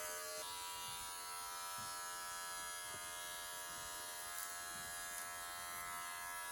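Electric hair clipper running steadily while trimming hair edges, a constant close buzzing hum with faint shifts as it moves across the hair, no pauses.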